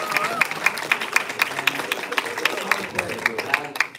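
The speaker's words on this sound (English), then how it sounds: "please give a warm round of applause for these whole community" An audience at a school showcase in South Korea applauds, many hands clapping in quick rhythmic bursts, fairly close, with voices murmuring underneath.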